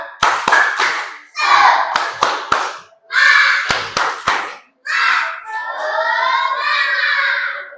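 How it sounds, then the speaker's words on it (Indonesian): Indonesian classroom teacher and pupils perform a rhythmic clapping chant: bursts of sharp sync claps alternate with group chanted phrases, repeating in short cycles, fairly close and loud. "Tepuk semangat."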